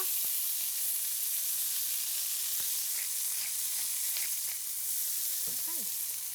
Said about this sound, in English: onion and celery. Give that a bit of a toss.